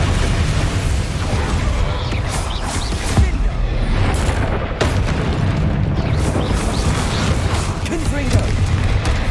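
A Bombarda spell blast in Hogwarts Legacy lands among loud, rumbling booms and bursts of chaotic combat, with a voice calling out over the noise.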